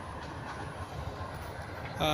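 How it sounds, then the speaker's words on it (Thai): A train passes along railway tracks near Pha Hom in Vang Vieng, Laos, as a faint, distant rolling rumble that lasts throughout, with a brief louder burst of noise right at the end. "เสียงรถไฟ"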